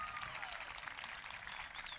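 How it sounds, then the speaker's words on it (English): Graduation audience applause, a distant, steady wash of many hands clapping in a large venue, with a faint whistle rising near the end. "Let's give Mr. Phelps one more round of applause"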